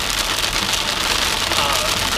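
Heavy rain pours down steadily on a car driving in Florida, a dense, loud, continuous hiss of drops drumming on the roof and glass with no pauses.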